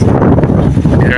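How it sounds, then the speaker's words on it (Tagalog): Strong wind by the sea buffets the microphone in a loud, rumbling roar, with a voice talking briefly through the gusts. "Lakas ng hangin dito"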